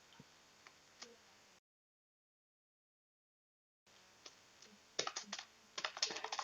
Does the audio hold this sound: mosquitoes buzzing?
no